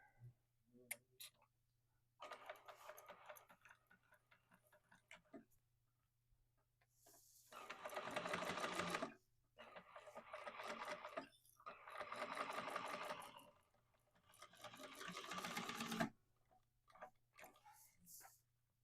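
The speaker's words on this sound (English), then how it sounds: "So stitch through all the layers." A sewing machine stitches through all the fabric layers of a sling, running in several bursts of rapid mechanical whirring with pauses between, close and fairly quiet, while a person talks over and between the runs.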